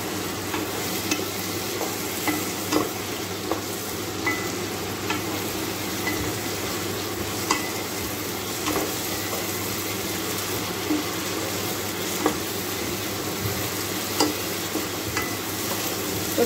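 Onion fries with ginger garlic paste in a pan, giving a steady, loud sizzle throughout, punctuated by repeated close scraping clicks of stirring.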